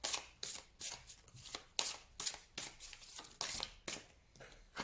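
Tarot cards shuffled and drawn for a Taurus horoscope reading: a quick series of about ten crisp riffling snaps in an uneven rhythm, close and fairly quiet, with no talking.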